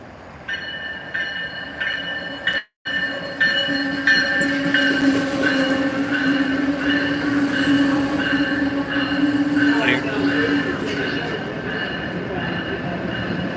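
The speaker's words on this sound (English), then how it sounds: "Alright, we got our train coming. Got the bi-level 17 series, 1712 in the lead." A bi-level 17 series commuter train, car 1712 in the lead, arrives with a loud, steady rumble and sustained whining, squealing wheel tones, close by and continuous for over ten seconds after a brief dip.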